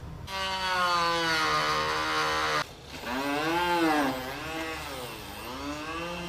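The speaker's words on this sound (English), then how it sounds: "So I'm going to make some initial cuts with the Dremel" A Dremel rotary tool cuts into a Jeep JK factory fender with a loud, close, high-pitched whine that briefly drops out, then returns with its pitch rising and falling as the bit bites into the material.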